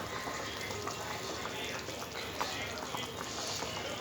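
Rohu fish curry with raw mango and potatoes boiling in a pot, a faint, steady bubbling and simmering hiss that holds evenly throughout.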